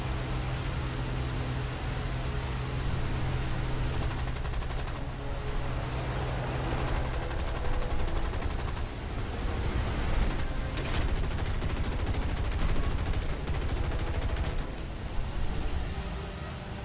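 Bomber tail gunners fire machine guns in a flight combat video game, a dense, continuous roar of gunfire with bursts of heavier rapid fire over steady engine noise.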